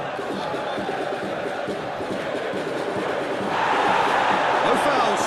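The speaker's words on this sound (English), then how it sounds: "the crowd clearly liked what they just saw" A dense stadium crowd in PES 2021 roars in a steady wash at a football match between Borussia Dortmund and Inter Milan, swelling louder partway through.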